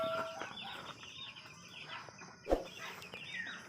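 Broiler chickens on their first day in a grower cage make soft, scattered clucks and peeps, faint and close, with a single sharp knock partway through.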